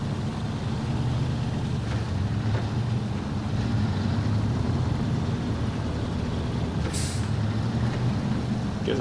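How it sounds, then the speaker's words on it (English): A truck's tires spin in the SnowRunner video game, an unladen truck with no weight over the wheels, giving a sustained loud engine-and-tire drone with a brief hiss partway through. "I'm just spinning the heck out of the tires because I ain't got no weight on the truck now."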